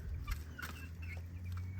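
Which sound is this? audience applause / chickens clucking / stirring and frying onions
chickens clucking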